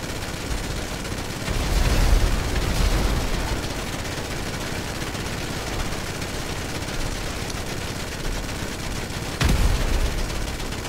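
Gunfire in GTA Online while testing guns on a Nightshark armored SUV, a dense, continuous roar of rapid shots lasting the whole stretch, with louder bursts near the start and near the end.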